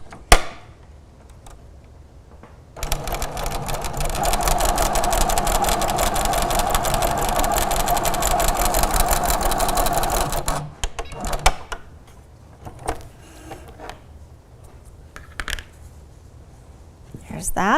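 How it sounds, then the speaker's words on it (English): A Little Rebel sewing machine from Grace Co. runs steadily for about eight seconds, stitching a quarter-inch seam on a quilted table runner with a fast, even mechanical whir, bracketed by quieter handling sounds and some talk. "And I'm going to stitch that seam, my scant 1/4 inch."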